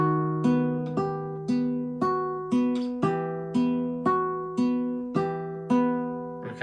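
Classical guitar plays bars 3 and 4 of Carulli's Valse No. 21, Op. 241: a steady waltz pattern of plucked bass notes followed by lighter chord plucks, each note ringing and decaying, close and clear with no talking.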